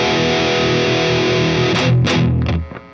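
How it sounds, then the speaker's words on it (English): Heavily distorted electric guitar plays tight palm-muted chugs with a few ringing accents, loud and close, then cuts off abruptly near the end. "what you're hearing there is a massive amount of palm muting"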